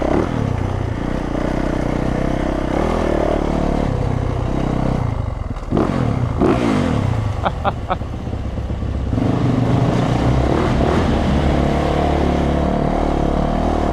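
A loud motocross dirt bike engine drones and revs up close, with mechanical clatter and shifting pitch as the throttle rises and falls.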